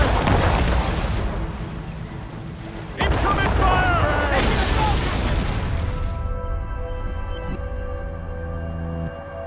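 Cannon volley fired by sailing warships in Assassin's Creed Rogue, heavy booming blasts rolling loudly over several seconds, a fresh surge of fire midway, then a fading rumble with tonal ship and music sounds and voices.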